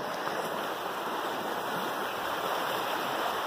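A stream in Uphall flows under a bridge, giving a steady, loud, unbroken rush of water with no voices over it.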